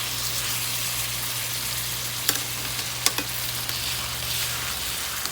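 Tilapia fillets sizzle steadily in a hot pan for Haitian-style stewed fish, a close, continuous crackle broken by a couple of light utensil clicks.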